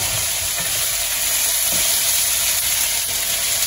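Tomato frying in a pan for a breakfast dish, a loud, steady sizzle and hiss throughout, close up, with faint stirring clicks underneath.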